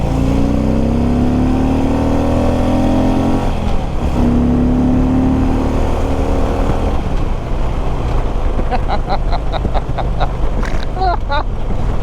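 A vehicle engine rising in pitch under throttle on a ride to Dunbar Cave State Park, loud and continuous with heavy wind buffeting, then easing off into rumbling with brief rattling ticks near the end.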